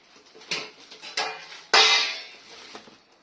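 Metal steamer plates for khaman, from a kadhai set that also holds idli plates, clank and clink together as they are handled: three sharp metallic knocks, the last loudest and ringing briefly, with lighter taps between.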